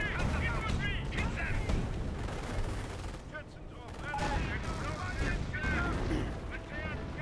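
A creeping artillery barrage in the strategy game Company of Heroes, with dense rumbling blasts and gunfire rolling through a busy battle mix while a voice talks over it.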